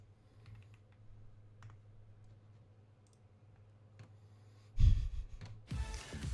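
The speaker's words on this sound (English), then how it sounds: "My typing, dude. My fingers just like on the keyboard." Keystrokes on a computer keyboard tap quietly and irregularly over a low hum, then a burst of loud, rapid typing clatters in the final second and a half.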